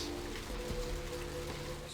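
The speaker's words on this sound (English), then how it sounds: "Rain, it's a pungent sewage of hell." Rain in the Vampire: The Masquerade - Bloodlines video game falls as a steady, even hiss of drops pattering on surfaces, with a low ambient hum beneath and no voices.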